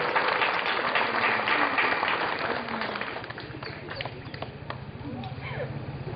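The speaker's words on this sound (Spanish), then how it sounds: "Recibamos con fuerte el aplauso." An audience at a primary school ceremony claps loudly at first and then the applause gradually thins and fades, with a voice talking partway through.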